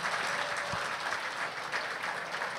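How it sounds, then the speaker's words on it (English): Steady audience applause fills an induction ceremony at the Canadian Horse Racing Hall of Fame, a dense even wash of many hands clapping throughout without pause. "Let's give a round of applause to Linda Rainey."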